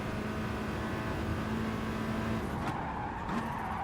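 A Scirocco race car skids in Gran Turismo Sport, its tires squealing in a steady, loud drawn-out screech over a constant engine drone, the squeal shifting pitch near the end.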